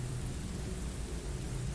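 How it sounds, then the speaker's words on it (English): Pounding rain with low rolling thunder, a dense, steady wash of sound holding evenly throughout. "Just the pounding of the rain and the whispering wind."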